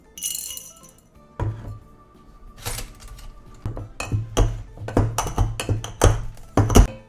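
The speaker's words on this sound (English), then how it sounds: "I'm gonna muddle some fresh black peppercorn into the other part of my shaker" Fresh black peppercorns muddled in a metal cocktail shaker: a series of close, sharp clinks and thunks, sparse at first, then quickening into a rhythmic run of taps.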